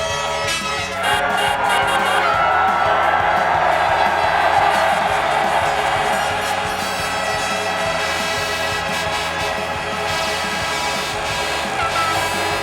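A large motocross crowd at the Redbud Pro Motocross podium roars and cheers steadily, with whoops and scattered clapping sustained throughout, loud and dense, peaking midway before holding a constant din.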